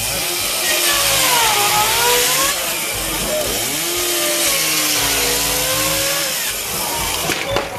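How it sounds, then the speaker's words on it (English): A chainsaw at a firefighter challenge runs loud and continuous, its engine pitch rising and falling as it revs through a cut, with crowd noise behind and no clear talk over it. "kick it over, stop the chainsaw."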